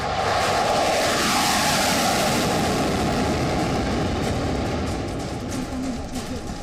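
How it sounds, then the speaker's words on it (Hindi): An F-16 fighter jet of Taiwan's air force on a drill flight in mountainous terrain, a loud sustained engine roar filling the whole stretch and easing slightly near the end. "ताइवान के बेड़े में शामिल सबसे घातक F-16 लड़ाकू विमान चीन के संभावित हमले से निपटने की ड्रिल भी कर रहे हैं।"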